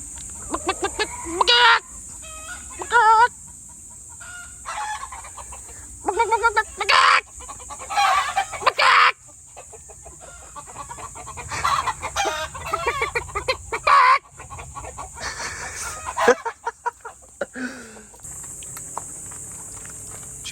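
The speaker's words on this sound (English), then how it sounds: "Roosters everywhere." Roosters crowing and chickens clucking in a yard during an outdoor Shibori/batik dyeing session, repeated loud bursts of calls with short pauses between, close and prominent.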